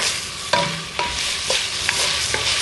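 Chicken, liver and gizzard sautéing in a pan, with a steady sizzle and a spoon or spatula stirring and scraping at intervals, close and fairly loud, with no voices.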